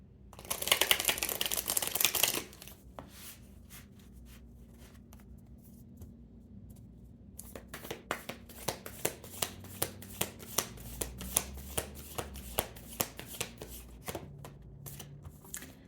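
Tarot cards being shuffled by hand: a dense riffling burst at the start, a quiet pause, then a long run of crisp, evenly spaced card snaps, close and fairly soft, with no talk.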